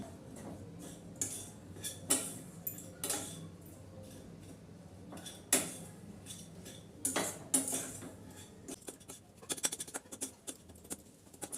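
A spoon turns grated coconut and jaggery in a pan over low heat for an ukadiche modak filling. Sparse scrapes and metallic clinks come at irregular intervals, faint and close, with no talk.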